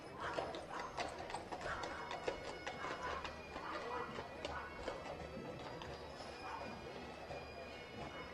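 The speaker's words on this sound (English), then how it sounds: "walking down the street with a couple beautiful horses and their excellent float." Horses pulling a float down a street in a homecoming parade, their hooves clip-clopping in a steady walking rhythm, moderately near, with crowd noise in the background.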